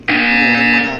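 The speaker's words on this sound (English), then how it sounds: "You will hear a buzzer." A harsh electronic buzzer blares in the video game Portal 2, one loud sustained tone of about a second that starts abruptly and fades slightly at the end.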